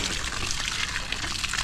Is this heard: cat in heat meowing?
no